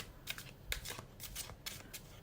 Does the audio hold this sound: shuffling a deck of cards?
yes